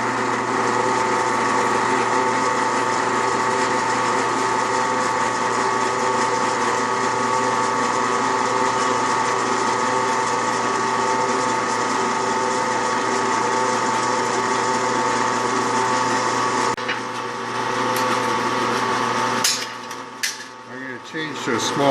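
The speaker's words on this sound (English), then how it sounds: "now I'm going to drill out the holes for the LEDs" A power drill runs steadily for a long stretch while drilling holes for LEDs in a 12V power management unit enclosure, a close, constant high whine that ends with a few brief clatters.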